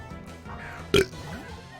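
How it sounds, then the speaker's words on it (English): A single short, weak burp lands near the middle, brief and mid-loud, among quiet background sounds from the Pokemon Volt White game. "Oh, that was such a weak burp too."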